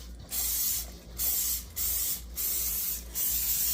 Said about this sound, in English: Then we get our cooking spray and we go around the side of the bowl